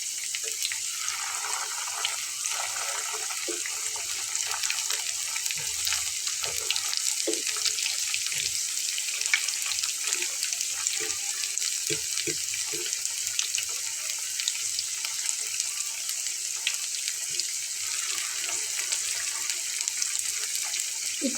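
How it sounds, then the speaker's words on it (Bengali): Potato crunchy balls, coated and stuffed, frying in hot oil for an iftar recipe, giving a steady, fairly quiet bubbling hiss throughout with scattered small pops and crackles and no talking. "ভেজে নিতে হবে, আর একটু আস্তে করে উল্টাতে হবে।"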